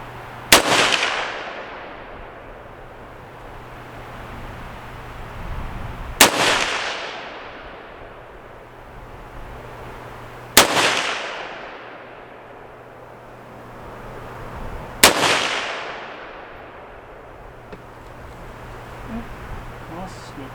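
Palmetto State Armory PA-10 Gen 3 rifle with a Ballistic Advantage barrel fired at a target range: four loud, sharp single shots about four to five seconds apart, each followed by a long rolling echo that fades out.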